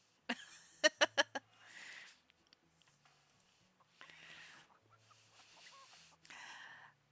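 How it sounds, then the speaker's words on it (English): Chickens cluck and a rooster-like call rings out in a farm setting from a video game, with a burst of sharp rapid squawks followed by scattered clucks and calls at moderate distance, no talk. "I can hear the cries of chickens and other farm animals in the distance"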